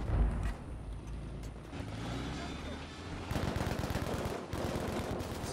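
Sustained automatic machine gun suppressive fire from the World War II shooter game Battlefield V, loud rapid bursts layered with vehicle rumble and battlefield noise, intensifying in dense repeated shots toward the end.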